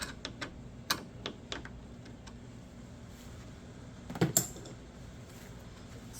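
A socket wrench works on engine bolts of a 2003 Subaru WRX during a timing belt and tensioner replacement, giving a few soft ratcheting clicks and taps, sparse and quiet over a faint background.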